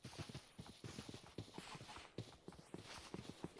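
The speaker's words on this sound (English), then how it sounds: "The woe of being a Minecraft horse." A horse in Minecraft clip-clops along in a quick, steady rhythm of hoof taps, fairly quiet and close, with no talking over it.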